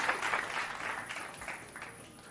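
Applause from a hip hop audience, a steady wash of clapping from a crowd, moderately loud and continuous, with a faint background tone running throughout.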